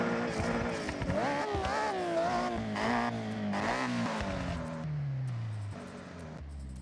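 Engine of a 2.6-litre inline-six car in Forza Horizon revving loudly with rising and falling pitch, tire squeal and skidding mixed in, then dropping to a lower drone toward the end.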